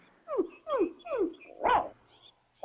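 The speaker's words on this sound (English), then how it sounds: "And your nice dog, Paddlefoot." A dog barks several times in a quick series of yips and short barks, fairly close and clear, ending with a louder bark and another starting.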